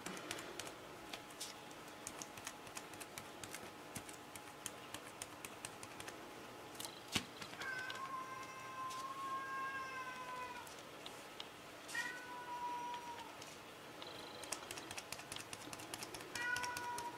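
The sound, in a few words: cat meowing to go outside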